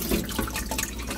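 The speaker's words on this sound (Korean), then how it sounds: "굴을 일단 물을 물기를 좀 일단 먼저 뺄 거예요" Water drains from a batch of raw oysters being readied for salted fermented oyster, a brief close wet trickling and dripping.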